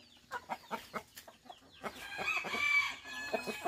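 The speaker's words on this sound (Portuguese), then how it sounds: "ver os frangos, acabei de abrir o galinheiro" Black hens, young roosters and an adult rooster on a farm, clucking in a steady rhythmic stream just after the coop is opened, with busier overlapping calls building midway, close by.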